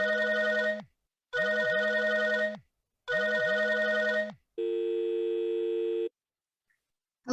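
A telephone rings three times in clean double-burst trills separated by silent pauses, followed by a single long steady electronic tone just before the answering machine picks up, with no voices present.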